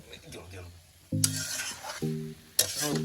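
Chicken kosha being stir-fried in a pot over a wood-fired clay stove outdoors in the hills on a rainy day, with bursts of sizzling and scraping strokes between pauses, and a voice briefly heard.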